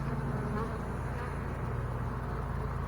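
Honeybees buzz at an open double-deep hive, a dense steady drone of many insects close to the listener, continuous throughout.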